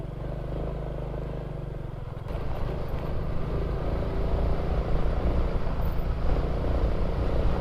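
A Honda XRM125 fuel-injected motorcycle rides over a rough, unpaved bridge road at moderate speed, its engine drone rising steadily under rattling clatter from the bumpy surface, close and continuous.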